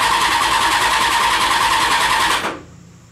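Engine of a Honda CBR 600 reverse trike running at a steady, fast, buzzing idle for a couple of seconds, loud and close, then cut off abruptly.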